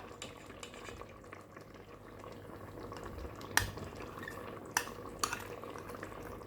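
Carrot halwa is stirred in a pan: a soft, low bubbling simmer with gentle scraping and a few sharper utensil clinks near the end, all fairly faint.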